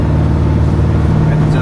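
Exhaust note of a 1965 Corvette coupe with a 327 V8 and 4-speed, heard from inside while cruising: a steady, deep engine drone, loud and continuous, with a slight rise near the end.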